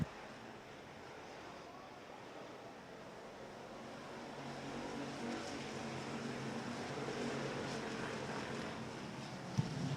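Race cars running down the back straightaway at RPM Speedway during the Johnny Suggs Classic, a distant, washing engine roar that slowly swells louder across the stretch, with no clear voices.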